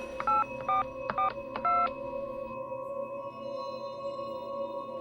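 A telephone keypad sounds a quick series of four clear dialing tones, each a short, evenly spaced beep, followed by a low steady hum as the call begins to connect.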